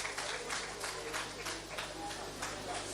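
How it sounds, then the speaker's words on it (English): An audience at a lecture in Nigeria applauds the Minister of Defense with a dense, steady wash of clapping at moderate distance. Faint voices are mixed into the applause. "Please, one round of applause for him,"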